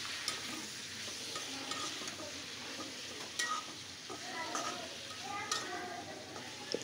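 Bottle gourd leaf bhaji with onion and garlic stirred in a pan as the water cooks off and the oil rises, giving a soft steady sizzle with scraping spatula strokes and small clinks, fairly quiet and close.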